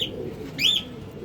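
Pigeons at a seller's loft give a single brief chirpy call rising and falling over a faint background murmur, fairly close and clear.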